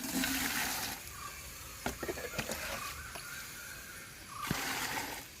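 Liquid slurry made from composted kitchen waste pours and trickles out of a container, a close, wet splashing that swells and eases with a few drips.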